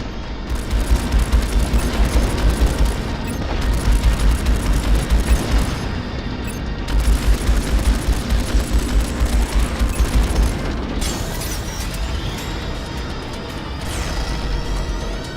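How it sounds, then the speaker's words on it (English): Dense, continuous space-combat din from Strike Suit Zero: rolling booms, crashes and rapid gunfire bursts as a capital ship takes secondary explosion damage, loud and layered throughout with brief dips between volleys. "even though it might be obvious when the ship starts taking secondary explosion damage"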